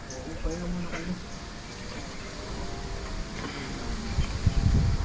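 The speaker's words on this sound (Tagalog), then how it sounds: "Ito, sa lakas ng hangin." Strong wind gusts buffet the microphone with a steady roaring rush, and heavier low thumps toward the end; no clear speech.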